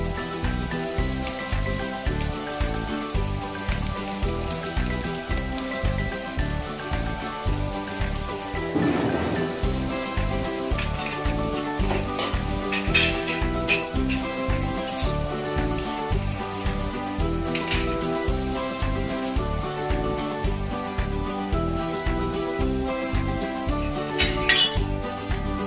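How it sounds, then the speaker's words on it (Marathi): Sev frying in hot oil, with the gas kept low, hisses and sizzles steadily throughout, mixed with a regular rhythmic clinking of a metal press and occasional louder clatters. "तेल गरम झालेलं आहे। आता आपण ही या पद्धतीने अशी शेव घालून घेऊया।"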